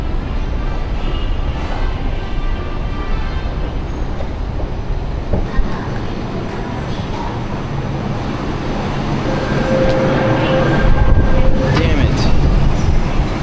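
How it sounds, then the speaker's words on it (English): A subway train rumbles and rattles past, steady and loud, with a brake squeal and the roar swelling toward the end. "I missed my subway."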